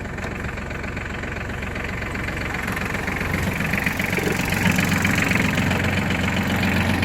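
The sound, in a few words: Japanese ISEKI mini tractor engine running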